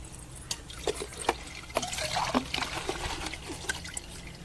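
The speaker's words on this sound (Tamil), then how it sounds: "ஊற்று தண்ணி கொஞ்சம் ஊற்றி அலசி ஊற்று." Water trickles and splashes in a series of faint pours and drips while rinsing sesame seeds on an organic sesame farm, with no talking.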